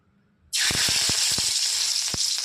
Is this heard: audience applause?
no